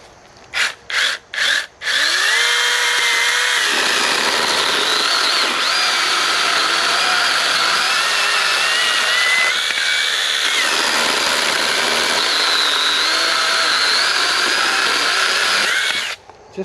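A Sainlogic mini chainsaw cutting through a tree log at a knot: a few short revs, then a loud, steady high-pitched motor whine with a shifting tone under load for about fourteen seconds before it stops.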